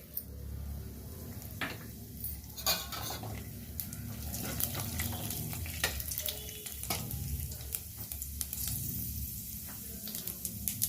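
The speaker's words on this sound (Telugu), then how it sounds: "పోపు దినుసులు వేసుకుంటున్నాను." Tempering spices crackle in a little hot oil in a kadai for a village-style okra and tomato curry, producing a steady, close sizzle broken by sharp pops and stirring clinks, with no voices.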